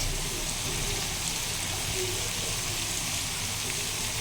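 Onion for egg fried rice hits a hot pan and sizzles in a steady, dense hiss that holds unchanged throughout, close and fairly loud.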